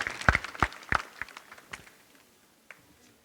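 Applause at an eye camp ceremony in Berasia, 2023: a few loud, sharp claps open, then thin, scattered clapping fades away to near quiet.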